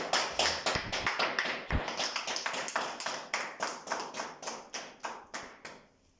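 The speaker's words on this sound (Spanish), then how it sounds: "Denle un aplauso al Rey de Reyes y Señor de Señores" A church congregation claps in a steady, even rhythm, sharp distinct claps about three per second, fairly close, with no talking, gradually loosening toward the end.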